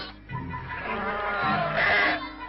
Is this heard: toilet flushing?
no